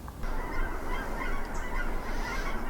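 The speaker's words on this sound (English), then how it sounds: "got geese flying over" Geese honk overhead as they fly over a cabin, their calls distant and faint within steady wind and outdoor noise.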